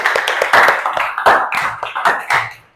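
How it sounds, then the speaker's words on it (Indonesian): Classroom applause after a group presentation in a physics lesson, a burst of many hands clapping close by for about three seconds, dense and uneven, tapering off at the end. "Beri tepuk tangan dulu."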